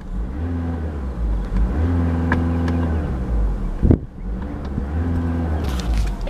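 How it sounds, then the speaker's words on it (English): A 2014 Volkswagen Jetta TDI diesel engine idles with a steady low hum, then climbs through two brief revs and settles back, heard close with no talking. "I'll give it a quick rev for you guys."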